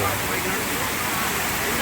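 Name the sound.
waterfall at Ananthagiri Hills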